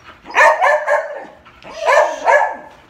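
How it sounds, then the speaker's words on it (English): A pet dog barks in two bursts of several loud, close yips and woofs indoors during a home game of hide and seek, with short pauses between barks and no talking. "Sorry about the dog, guys."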